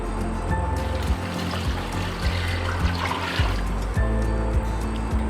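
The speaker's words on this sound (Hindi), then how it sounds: "अब हम इसमें पानी डालेंगे।" Water pours steadily into a pot for chicken yakhni pulao, a continuous liquid trickle and splash with faint clinks over a low background hum.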